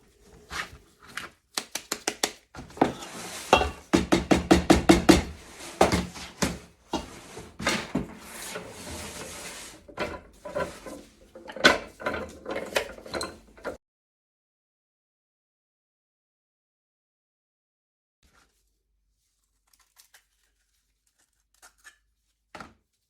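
A plastic bath bomb mold pressed with a flat top plunger, giving a series of close, sharp clacks and scraping presses, some fast and rapid, that stop abruptly and leave long silence with a few faint taps near the end.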